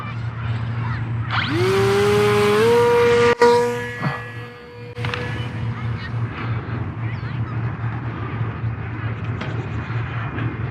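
A WLToys A160 J3 Skylark Cub micro RC plane flying outdoors over wet grass, its small motor whining steadily and rising in pitch as it climbs. A sharp click cuts in, and a voice talks beneath the motor.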